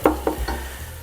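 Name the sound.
seasonings melting and being stirred in soup pot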